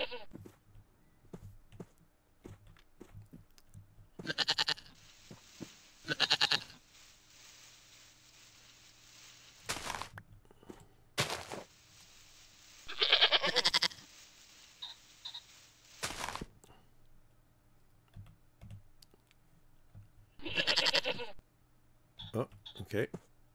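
Several goat bleats in the game TerraFirmaCraft ring out in separate bursts over a low background hum and clicks, each call loud and wavering, spaced a few seconds apart.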